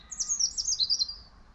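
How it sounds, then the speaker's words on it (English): Blackbird and robin song at an allotment in spring, heard as a quick run of bright, high warbling phrases and chirps, fairly close and clear over a quiet outdoor background with no talking. "This bird song, this blackbird and"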